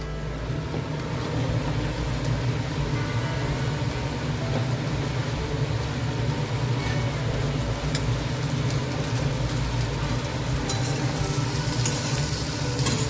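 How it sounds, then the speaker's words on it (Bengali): Spring onion greens being stirred into frying Gobindobhog fried rice in a pan, a steady close sizzle with soft scraping running throughout, no talking. "পেঁয়াজ পাতাটা দিয়ে একটু নাড়িয়ে নেবো হালকাভাবে"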